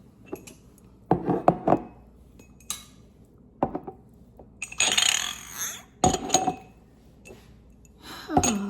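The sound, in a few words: glass jars and lids clinking while being handled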